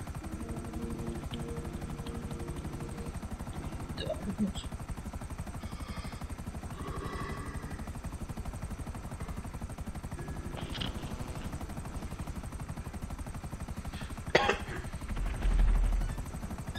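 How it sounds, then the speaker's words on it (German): A police helicopter in GTA V Online drones steadily in the background at moderate distance, its rotor hum continuous under a few faint game sounds, with a brief thump near the end. "Ist der Heli hinter uns?"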